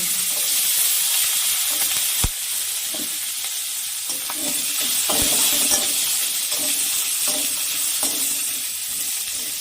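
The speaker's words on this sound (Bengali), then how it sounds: "ওই মাছ ভাজার তেলের মধ্যে আমি লঙ্কাগুলো অল্প হালকা ভেজে নেব।" Green chillies fry in oil left over from frying rohu fish, giving a steady broadband sizzle with a few sharp clinks and stirring knocks, close and continuous without talk.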